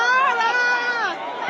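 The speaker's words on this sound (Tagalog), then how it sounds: "Grabe sigawan yung mga tao." A crowd screams and cheers at a political gathering, with high, overlapping shrieks and shouts that merge into a dense, sustained din. It is loud and close and stays strong for the whole short stretch.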